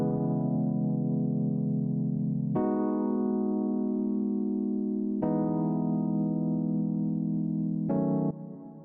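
Sustained piano chords change roughly every two and a half seconds in a slow, steady progression, each one ringing out alone without any voices.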